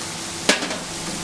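Onions frying in a pan over a medium flame with ginger garlic paste just added, a steady soft sizzle marked by one sharp clatter partway through.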